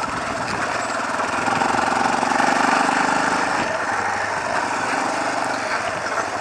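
Spare ATV quad engine chugging steadily at low speed along a bumpy trail, loud and close, with a slight rise in revs midway and no talking.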